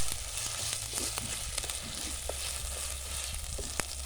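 Steady sizzling and crackling of tomato frying in a pan for chicken curry, with a few louder pops, close and continuous.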